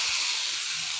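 A loud, steady sizzling hiss fills the whole moment as boiled potatoes are dropped into hot oil in a pan, with no voices.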